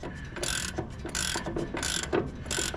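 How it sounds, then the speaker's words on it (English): A 17 mm nut being unscrewed on a Snow Beast 45-inch snow blower, heard as close, repeated bursts of metallic ratchet clicking in a steady rhythm over a busy mechanical background. "I'm just taking the nut off over here, 17 millimeter."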